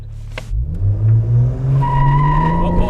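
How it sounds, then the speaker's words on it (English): A 500 hp Ford Explorer ST performs a brake-stand burnout, its engine revving hard under a loud, sustained tire squeal that rises in pitch over a few seconds, close to the microphone. "That was a burnout."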